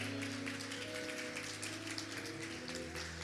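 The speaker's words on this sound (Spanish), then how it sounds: "Le damos un fuerte aplauso al Señor en esta hora" A church congregation clapping together during a worship service, a faint, steady wash of many hands blending into a soft rain-like patter with a low sustained tone underneath.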